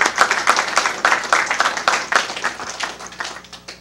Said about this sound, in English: So I think Renee deserves a good round of applause.